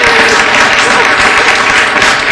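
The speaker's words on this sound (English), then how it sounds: "We can have a round of applause." Loud, close, dense round of applause from wedding ceremony guests, a continuous burst of many hands clapping at once.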